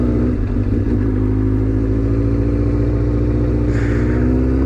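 A motorcycle cruises at steady speed along a coastal road on the Isle of Man, its engine droning loud and close with constant wind rush and no talk.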